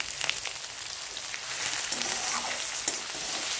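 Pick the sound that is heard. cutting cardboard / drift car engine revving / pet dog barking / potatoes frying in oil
potatoes frying in oil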